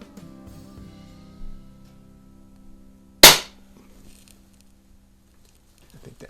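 A single sharp crack from a Daisy model 62 under-lever spring-piston air pistol firing a pellet, loud and close, standing alone against a quiet room with faint low hum before and after.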